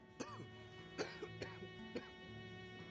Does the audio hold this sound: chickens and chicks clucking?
no